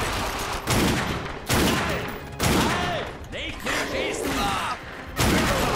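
Gunfire in the PC game The Darkness 2 comes in several loud, sharp bursts of rapid shots separated by short pauses. Brief vocal sounds are heard between the volleys.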